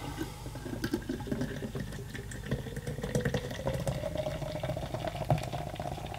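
Guinness Cold Brew Coffee Beer being poured from a can into a glass, a soft continuous fizzing, bubbling pour that is fairly faint and unaccompanied by speech.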